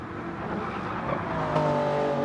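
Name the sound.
Toyota Supra race car engine revving, racing video game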